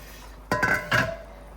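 Puffed rice mixed with lentil powder is tipped into a metal pan in two quick pours, each a bright metallic clink and clatter.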